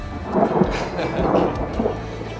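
Thunder and rain in Ljubljana, Slovenia, with rolling, swelling low rumbles of thunder over a steady wash of rainfall, loud and continuous, with no speech.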